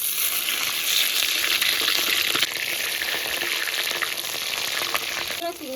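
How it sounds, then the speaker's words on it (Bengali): Large prawns, each around 300 grams, fry one at a time in hot oil with a steady, loud sizzle and hiss, and a few faint stirring or turning sounds near the end. "এবার এক একটা করে চিংড়ি মাছ ভাজবো।"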